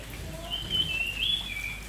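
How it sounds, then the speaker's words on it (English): Clear, high whistling bird calls in a few drawn-out phrases, moderately distant, over a faint outdoor background hiss, at a YMCA lakeside camp in Nilshi. "There are these whistling birds out here."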